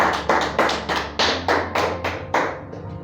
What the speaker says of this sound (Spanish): Le damos un aplauso al Señor Jesucristo.